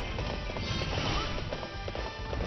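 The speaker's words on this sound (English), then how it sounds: "you just march right fucking through with this horse" Rapid hoofbeats from a galloping horse in the Wii U game Hyrule Warriors, a steady clip-clop rhythm driving forward under game noise, fairly quiet in the mix.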